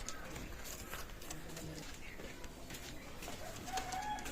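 A running pair of pigeons offered for sale, cooing softly and faintly in a quiet room while someone talks over them.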